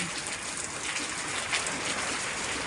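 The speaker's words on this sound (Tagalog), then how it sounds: "Ayan na, ang ulan. Ayan na, pumapatak na." Rain begins falling during a typhoon, a steady broadband patter of drops on surfaces, close and even throughout, with no voices.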